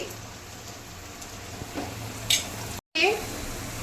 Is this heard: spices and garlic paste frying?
yes